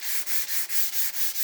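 Sandpaper wrapped on a soft sponge rubs wet across a contoured aluminum tank in steady back-and-forth strokes, about seven even passes, close and fairly loud, with no voices.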